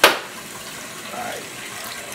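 Tap water runs into a pot of noodles, a steady hissing splash after a brief sharp onset, close by.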